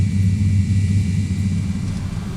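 Jet engines of a simulated MD80 idle while taxiing in X-Plane 11. A steady, loud low rumble with a constant airy hiss runs on without a break.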